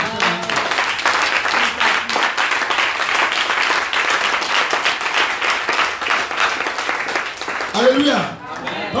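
A church congregation at a worship service claps for Jesus in sustained, dense applause that fills the whole stretch, with voices rising briefly near the end.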